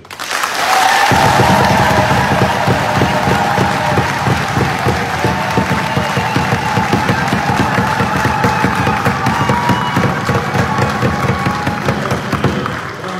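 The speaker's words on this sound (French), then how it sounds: "J'aimerais que vous puissiez ici applaudir tous les Congolais qui sont dans la diaspora" A crowd at a Martin Fayulu political rally in Belgium breaks into loud, sustained applause with cheering, a dense wall of clapping that holds steady for over twelve seconds.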